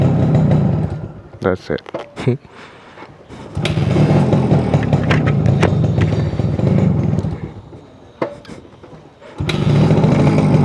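An out-of-tune Suzuki AX100 motorcycle engine running close by, a loud rough drone that stops and restarts twice, broken by thumps and clatter, with a brief spoken remark.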